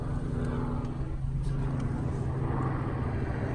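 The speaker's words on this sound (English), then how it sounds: "I hear a chopper." A helicopter flies low overhead near Big Bear on a calm spring day before a storm, a loud, steady rotor-and-engine thrum that holds its level throughout with no talking.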